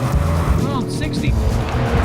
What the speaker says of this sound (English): 365 horsepower twin turbo V6.